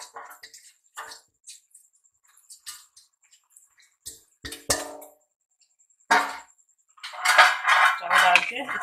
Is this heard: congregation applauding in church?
no